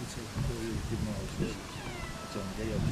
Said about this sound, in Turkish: Güzel kedi.